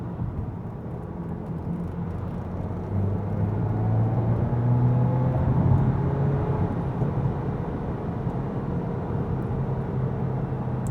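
Engine of a VW Golf Mk8 GTI heard from inside the car during a downshift into third, a steady low rumble that swells in the middle and then settles, no voices.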